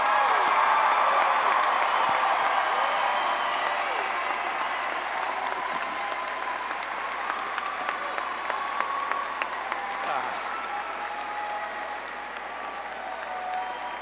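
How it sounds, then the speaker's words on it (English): Sustained applause from a large crowd of graduates at a 2017 spring college commencement ceremony, loud and steady at first and gradually easing off, with scattered whoops. "Come on, graduates, you can give them a real round of applause."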